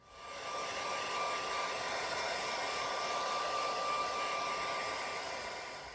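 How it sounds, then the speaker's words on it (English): A hair dryer runs continuously, a steady close airy roar with a thin whine, heat setting glitter vinyl onto a shirt, rising at the start and fading slightly at the end. "all we have to do now is get our hairdryer and heat set it"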